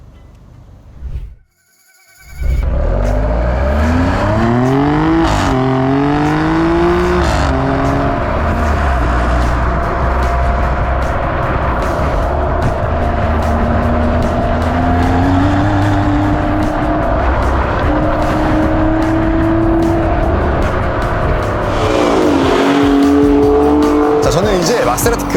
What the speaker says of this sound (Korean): 저는 이제 마세라티 그레칼레 트로페오를 타고 도로 위로 올라왔습니다.